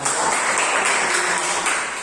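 A classroom of students claps together in a brief, dense burst of applause that stays loud and even for about two seconds, without talking.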